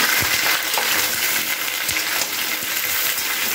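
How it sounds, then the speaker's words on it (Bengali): Mixed vegetables sizzle steadily in hot oil seasoned with nigella seeds, a continuous loud frying hiss with a few soft stirring clinks. "এই সবজিগুলোকে সমস্ত কিছু ভালো করে আমি একটু ভাজা ভাজা করে নিচ্ছি"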